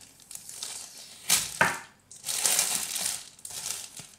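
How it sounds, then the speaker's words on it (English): Close-up chewing and tearing of bread in the mouth: a couple of sharp crunchy bursts, then longer stretches of moist crackling chews, with no talk. "someone wanted me to spend 30 seconds shoving bread in my mouth"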